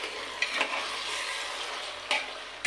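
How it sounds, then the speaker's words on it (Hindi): Spoon stirring mutton curry with onions in a pressure cooker, a steady close sizzle and frying hiss with a few scraping strokes against the pot, no talk. "उसमें डाल दें और इसको एक बार चला देते"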